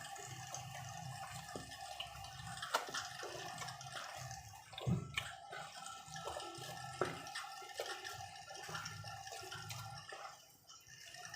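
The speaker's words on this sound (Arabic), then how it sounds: "احنا هنحط الميه" Water poured into bread dough for homemade school-style toast bread, a steady close trickle and splash running throughout with small drips and clinks from the bowl.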